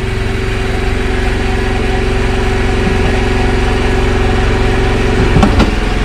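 A generator on a tuna fishing boat drones steadily and loudly, a constant low engine hum throughout with a brief clatter near the end.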